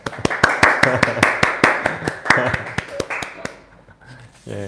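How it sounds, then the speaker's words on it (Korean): A church congregation claps to welcome a visitor after a worship service, giving a lively run of sharp, rapid handclaps. The clapping fades out within about four seconds and ends in quiet murmuring. "박수로 환영합니다."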